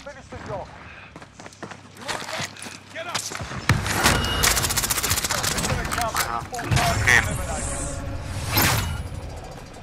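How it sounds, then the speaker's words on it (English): Bursts of rapid video-game gunfire crackle in a squad shooter match, with volleys and single shots coming in uneven clusters while players talk excitedly over the action. "He was shooting through a vehicle and I couldn't hit him through it."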